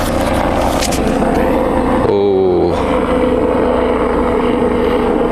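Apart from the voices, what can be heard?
helicopter flying overhead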